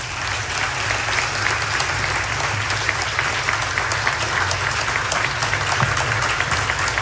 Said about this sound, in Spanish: con este aplauso agradecemos y despedimos al señor presidente de la Nación